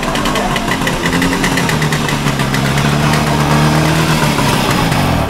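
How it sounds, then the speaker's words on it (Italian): A motorcycle engine making a loud, infernal racket, close and steady with a rough idling drone and slight revving, heard alone. "Questa motocicletta fa un fracasso infernale!"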